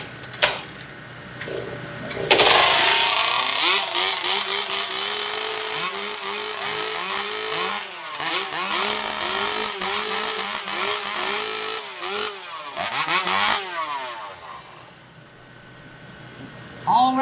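Several hot saw two-stroke engines warm up at a lumberjack show, revving loudly and unevenly, rising and falling together in pitch with sharp throttle bursts, a steady roaring chorus for most of the clip.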